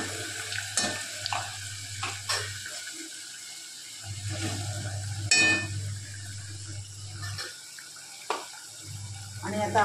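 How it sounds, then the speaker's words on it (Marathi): Ground masala paste drops into hot oil and crackles, with gentle sizzling bursts and clinks of a utensil close by, while a low hum comes and goes underneath; a voice may speak faintly. "तेलात चांगले गरम झाले की मग आपण जो आता मिक्सरला मसाला वाटला तो मसाला आपण हे तेलामध्ये टाकून देऊया."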